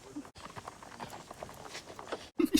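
A mare is led along outdoors, her hooves clip-clopping in an uneven walking rhythm of soft thuds close by, with a brief gap and a louder burst of knocks at the end, no speech.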